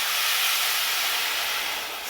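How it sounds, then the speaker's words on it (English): Water poured into a very hot pan of rice hisses and sizzles in a steady, bright rush that stays loud through the short span and eases slightly at the end. "Sizzling."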